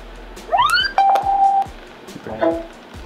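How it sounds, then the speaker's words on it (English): A Bluetooth speaker plays its connection notification chime: a quick rising tonal sweep, then a steady held tone and a shorter second chime, clear and close in a quiet room. "Yep, that's a notification."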